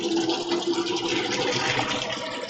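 Water pump running steadily through a home beer brewing setup, a constant broad rushing hiss close by with no breaks.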